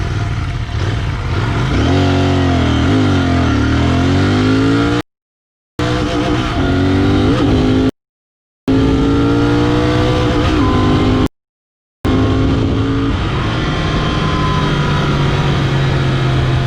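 A Royal Enfield Continental GT 650 BS6 motorcycle accelerates hard from 0 to 100 km/h, its engine note climbing through several gears with three short gaps, steady and close throughout, no talk.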